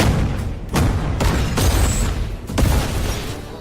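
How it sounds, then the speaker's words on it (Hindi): Heavy explosion blasts boom in an action movie scene. Several loud, broadband bursts hit in quick succession, each with a rumbling tail, layered over a dense, continuous roar with no speech. "इस धमाके की आग यहां तक नहीं रुकेगी, उसकी लपटें दुबई तक पहुंचेंगी।"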